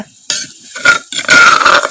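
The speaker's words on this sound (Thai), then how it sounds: "น้ำเดือดแล้วเราก็ใส่พริกเกลือที่เราตำเมื่อกี้ ลงหม้อเลยนะคะ" Pounded chili and salt paste is added to a boiling pot: wet splashing and stirring, with clinks of a utensil against metal and a bubbling, hissing boil underneath, close up.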